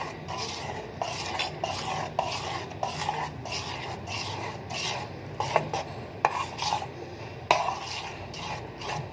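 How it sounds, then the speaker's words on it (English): A utensil slowly mixes cake batter thinned with added milk in a bowl, making close, wet scraping and stirring sounds with occasional sharper knocks against the bowl. "Now slowly I'm mixing it"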